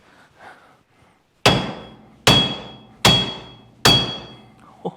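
Four loud, ringing hammer strikes on metal of a 65-year-old hot rod, evenly spaced about a second apart, each clang decaying before the next blow.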